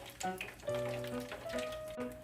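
Tofu frying in hot oil for a first fry, a steady bubbling sizzle with crackles and spits close by, continuous and fairly loud.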